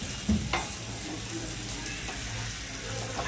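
Prawns fry in a pan with a soft sizzle, a sharp clatter near the start as a spatula turns them, then faint scraping and hiss continuing under low background hum.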